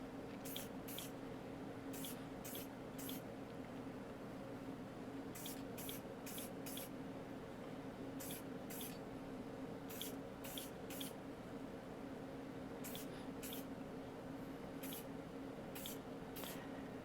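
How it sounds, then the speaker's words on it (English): Spray can applying paint to a Dinky Studebaker 25Q model truck during restoration, short hissing bursts repeated in loose clusters over a quiet, steady background hum, close and clear with no talk. "the spray bomb is effective for this model"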